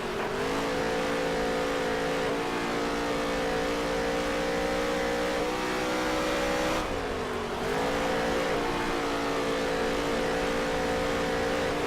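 Race car engines roaring around the Eldora dirt track in NASCAR Heat 3, a continuous loud droning whine that holds steady, dips briefly in pitch midway, then climbs again, with no voices.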